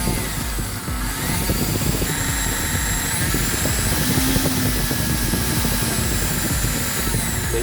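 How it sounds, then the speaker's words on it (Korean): Loud, continuous whirring drone of a cheap universal motor on an AC voltage regulator turned to minimum, with buzzing, crackly electrical noise running steadily throughout. "노브를 왼쪽으로 최대한 돌려도 모터의 미세 전기, 노이즈 때문에 소음이 지속됩니다"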